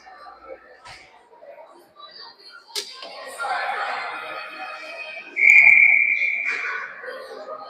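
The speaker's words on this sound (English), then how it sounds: "Finally there's a whistle, late." A referee's whistle sounds a single sharp, sustained blast at an ice hockey game, rising over the crowd noise and arena chatter, with impacts and voices around it.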